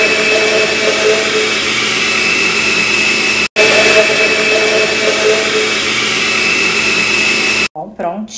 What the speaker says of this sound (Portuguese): Eu tampei e vou ligar esse liquidificador e deixar batendo